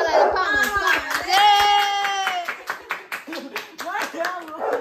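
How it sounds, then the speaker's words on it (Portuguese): A small group clapping in a rhythm of sharp, close hand claps at a birthday gathering, mixed with loud excited voices, singing and shouting throughout. "Palmas, palmas, galera"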